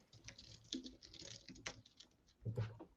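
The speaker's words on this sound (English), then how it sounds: "And Lens, we can hear you typing as well." Faint clicking keystrokes from someone typing on a computer keyboard, with irregular taps and a few louder key hits.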